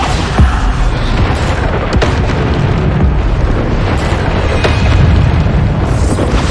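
Booming spell blasts from a Harry Potter video game, dense and continuous, with repeated explosive bursts layered over a loud rumbling battle din throughout.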